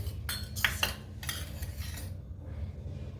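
Honey, sugar, milk and curd are stirred together for panchamrit, a spoon clinking and scraping against a metal vessel in a few quick bursts before settling into quiet.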